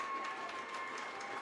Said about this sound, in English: Crowd is going absolutely insane right now. Kicking the bleachers.